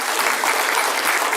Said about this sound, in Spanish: fuerte palmas a nuestro Señor